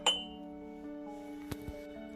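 Glassware in a crate of assorted glass goods giving a bright clink with a ringing tail, followed by two faint light taps, quiet and close.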